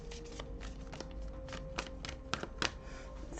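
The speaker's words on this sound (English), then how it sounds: "I am going to shuffle them" A deck of cards being shuffled at a table during a card reading, giving soft papery riffles and flicks close by over a steady low hum, with a few sharper snaps near the end.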